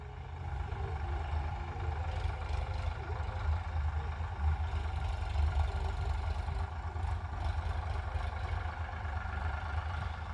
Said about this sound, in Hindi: फोर्ड ट्रैक्टर खेत में चल रहा है भाइयों।